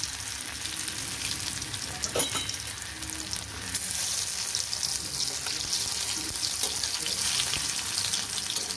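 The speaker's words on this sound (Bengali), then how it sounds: "হালকা করে ভেজে নিচ্ছি" Dhoka lentil cakes fry lightly in oil, giving a steady, moderate sizzle and crackle throughout with a few faint utensil taps and no voices.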